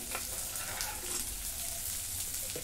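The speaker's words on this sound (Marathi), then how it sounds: "आता ह्याच्यामध्येच लसूण आणि आलं बारीक चिरून घेतलेलं आहे टाकून घेते" Finely chopped garlic and ginger sautéing with onion in a pan, giving a continuous soft hiss of frying with faint stirring, fairly quiet and close, with no talking.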